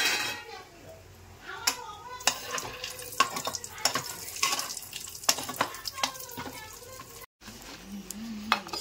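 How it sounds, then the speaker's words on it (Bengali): Green beans and cashews fry in ghee-mixed oil in a pan, with steady sizzling broken by repeated clinks and scrapes of a spoon stirring against the metal; a brief gap near the end. "আমি একটু কাজুটাকেও ফ্রাই করবো"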